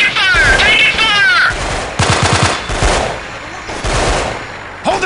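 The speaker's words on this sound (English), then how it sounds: "Taking fire! Taking fire!" Video game Delta Force: Black Hawk Down, with enemy AK fire: bursts of close, rapid automatic shots come in several short volleys amid shouted radio-style voice lines and other game sounds.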